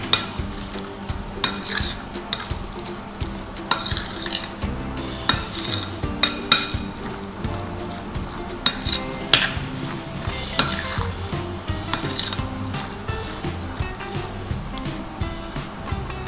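Spoon mixing a fruit dessert with condensed milk, repeated clinks and scrapes of metal against a dish in an irregular, continuous stirring rhythm, close and clear.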